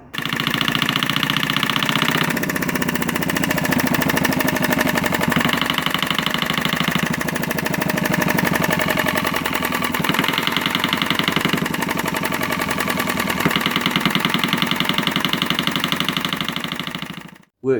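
A model desktop diesel engine runs steadily, a loud rapid knocking chug with an even mechanical rhythm and slight shifts in tone, continuing without pause for most of the clip before cutting off.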